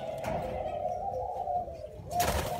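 Pigeons at a Vietnamese pigeon seller's coo in a low, rolling, sustained call, clear and close. A brighter rustle or flutter breaks in near the end.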